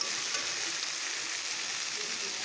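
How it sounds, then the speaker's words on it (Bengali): Taro leaves and bean seeds being dry-sautéed in oil give a steady, close frying sizzle with a soft hiss throughout, and no voices are present. "এটাকে আমি ভালোভাবে কষিয়ে নিচ্ছি"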